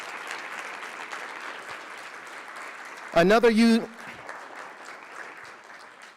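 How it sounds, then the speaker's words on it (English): Conference attendees give the speakers a steady round of applause at closing remarks, with a brief spoken word cutting through midway before the clapping carries on at an even level. "Let's give them a round of applause."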